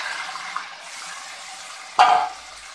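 Marinated chicken tipped all at once into a hot pan for chicken korma with cardamom, giving one sudden loud sizzling burst that fades into a steady frying hiss.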